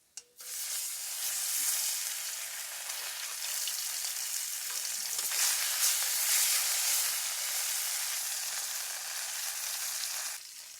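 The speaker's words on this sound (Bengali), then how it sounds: "কড়াইটা গরম হয়ে গেছে, এখন তেল দিয়ে মাছগুলো ভেজে নেব।" Bata fish frying in hot oil in a pan, a loud, continuous close-up sizzle and hiss that starts abruptly, holds steady for about ten seconds, then cuts off, with no voices.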